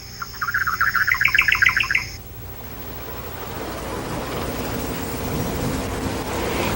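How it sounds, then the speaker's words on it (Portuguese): Small birds chirp in rapid bursts at a nest woven high on a papyrus stalk at a lagoon, a near, busy twittering that stops after about two seconds and gives way to steady soft wash. "não só temos closes dos passarinhos, mas os vemos em seu ninho, caprichosamente tecido no alto de um papiro"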